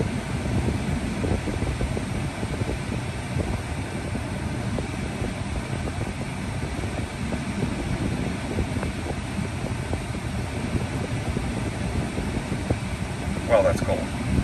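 A Tesla Model 3 air-conditioning compressor pump runs at its coldest setting while the car recharges, giving a steady broadband whirring drone with fan-like airflow that holds even and continuous from start to finish.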